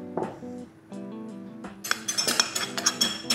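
A metal spoon clinks and scrapes against a container while scooping powdered cocoa, a series of close, bright taps and knocks that grow busier toward the end.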